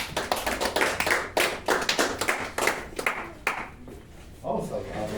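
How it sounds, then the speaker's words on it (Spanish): A church congregation applauds in bursts of hand clapping, loud and close with uneven rhythm, fading out near the end as voices rise briefly over the last claps. "Vamos a darle un fuerte aplauso al Rey."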